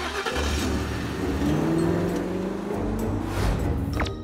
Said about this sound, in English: Sasha gets into the car and drives away.